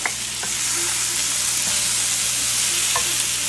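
Jalapeno sizzles in a hot pan, a steady loud hiss of frying running throughout with a few soft clicks of stirring, no voices.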